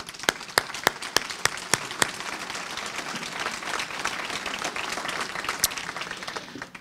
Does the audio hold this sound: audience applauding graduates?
yes